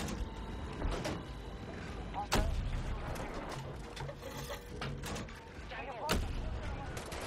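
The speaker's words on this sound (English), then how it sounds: "Hostile fire." Distant hostile gunfire in the video game Battlefield 2042, a few sharp shots cracking out over a busy, rumbling battlefield background.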